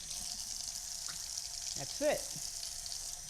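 Cold tap water runs steadily over a popsicle container in a kitchen sink, a constant wash of flow with a brief louder splash midway as a voice speaks briefly over it.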